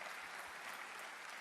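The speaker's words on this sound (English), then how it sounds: "Let's clap hands for the president of FIFA" Steady, dense audience applause fills a large awards-ceremony hall at the CAF Awards 2025 as the FIFA president is honoured, with no voices rising above the clapping.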